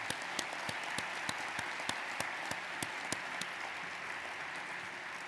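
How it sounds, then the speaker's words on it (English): Audience applause at a medical school commencement ceremony, a dense wash of crowd clapping with a few sharp, close hand claps punctuating it at irregular intervals. "Let's give them a round of applause"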